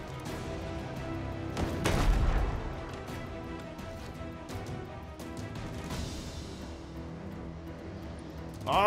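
Grapeshot cannon fire in the naval video game Abandon Ship: a few booming blasts, one heavy thump near the start and scattered sharp cracks, over a low steady game hum, fairly faint.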